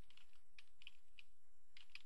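Quiet typing on a computer keyboard, with several light, irregular key clicks in short bursts heard close up against a low room hum, with no speech.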